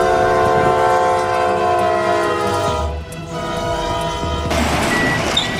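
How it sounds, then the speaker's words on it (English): A locomotive horn blares continuously as a train plows through heavy snow, a loud sustained tone over steady rumbling rail noise with no talking. "the engineer just laid on the horn the whole trip"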